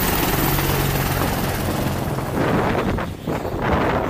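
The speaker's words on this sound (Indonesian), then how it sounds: "Wow, ini adalah helikopternya Pak Polisi." A police helicopter, apparently a toy or model, gives off a loud, continuous whirring rotor roar, steady at first and then wavering and briefly dropping before it picks up again.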